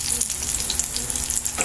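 Chili peppers stuffed with ground meat and cheese sizzle steadily in hot oil, a close, continuous crackling fry with no talk.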